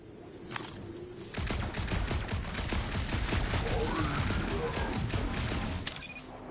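Dense, sustained gunfire from the video game Guardians of the Galaxy rattles on for several seconds as a near, loud barrage with rapid repeated bursts, after a brief quieter lead-in.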